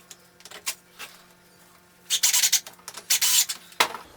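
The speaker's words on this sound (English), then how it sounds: "Now I'm going to tighten these screws into the noodle." Screws are tightened into a foam pool noodle for a homemade catfish jug, giving scattered squeaky rubbing and creaking twists, faint at first and then louder in quick bursts toward the end.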